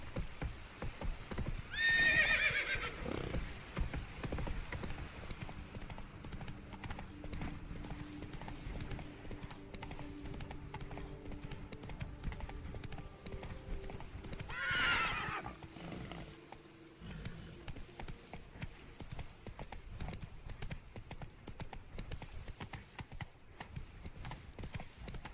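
Hoofbeats of a horse galloping in The Witcher 3 video game, a steady clip-clop rhythm running throughout with two loud whinnies near the start and midway, over a low rumbling game backdrop.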